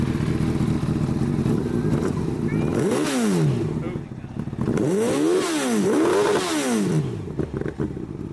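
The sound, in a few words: Honda CBR1000RR motorcycle engine running in gear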